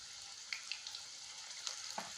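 Jackfruit pakoras fry in oil over a medium flame, giving a soft, even sizzling hiss with a few small pops and bubbles, close but quiet, with no talk.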